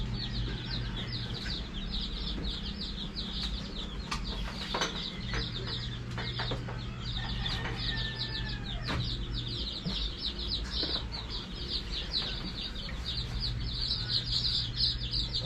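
Rhode Island chicks peep in a steady, busy chorus of high chirps while being handled, with a constant low hum and rustling in the background.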